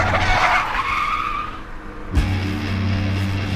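A car skids with a harsh, sustained tire squeal that fades after a couple of seconds, followed by a sudden thump and a steady low engine rumble, fairly loud and close, with no voices.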